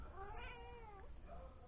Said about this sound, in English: see the kitty, my meow meow kitty